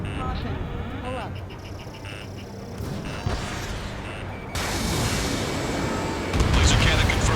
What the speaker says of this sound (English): Laser cannon confirmed destroyed.